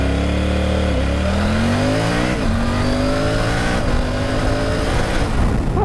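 A Triumph Tiger 900 Rally Pro motorcycle accelerates hard: a loud, close engine note climbs steadily through the gears with brief dips at each shift, continuous for the whole stretch with no voices.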